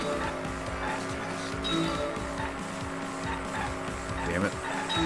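Enemy cars skid and screech through a driving minigame in the Danganronpa V3 class trial, with engine drone and tire squeal running continuously for several seconds, thick and fairly loud, layered over game music with some voice underneath.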